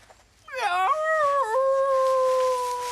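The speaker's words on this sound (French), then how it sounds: "Un loup." A single drawn-out cartoon wolf howl rises, wavers, then holds a long steady note, loud and close, with quiet background beforehand.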